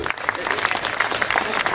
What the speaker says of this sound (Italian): fate un applauso anche ai cantanti.